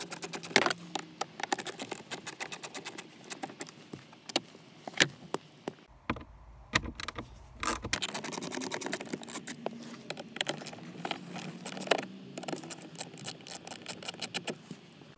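Torx 20 bolts being worked out of the glove box of a Vauxhall Corsa C: a close, busy run of small metallic clicks, ticks and rattles, with a short quieter gap midway before the fiddly tapping resumes.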